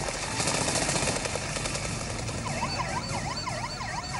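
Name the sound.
ambulance siren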